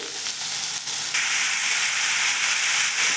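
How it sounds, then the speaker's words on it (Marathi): Potatoes tossed into hot ghee set off a steady, close sizzle that jumps louder about a third of the way through and then holds as a bright, even frying hiss, with no voices. "आता टाकूयात बटाटे छान तुपामध्ये घेऊयात परतून"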